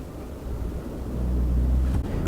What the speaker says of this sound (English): setting off in the F-150 Lariat 2023, again equipped with the PowerBoost Hybrid engine